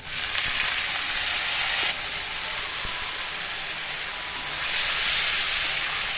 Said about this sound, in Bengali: একটু পেঁয়াজ তারপরে একটু ওই যে শুকনো মরিচ কাঁচামরিচ ভেজে নিলাম